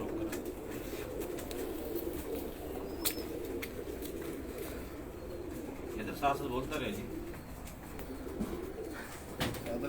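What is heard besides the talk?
pigeons cooing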